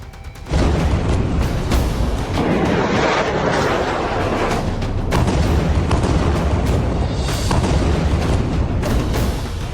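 A loud, continuous roar of heavy blasts and rumbling from Iranian Fateh missile strikes swells abruptly and holds near and powerful, with a few sharper booms breaking through.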